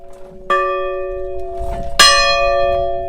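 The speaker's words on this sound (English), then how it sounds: "a church bell fills this peaceful Bayou countryside" A chapel bell in the Louisiana bayou countryside strikes twice, a few seconds apart, each loud clang ringing out and slowly fading.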